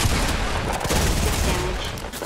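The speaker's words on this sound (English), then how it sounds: "Now I can actually use my shotgun." Gunfire from a shotgun in a disco-themed shooter video game, a dense, loud wash of shots and blasts that fills the whole stretch with no clear gaps between reports.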